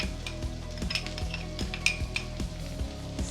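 Sliced onions and carrot sauté in a pan for a poha dish, with steady sizzling and repeated metal scrapes and clinks of a spoon stirring against the pan, close and continuous.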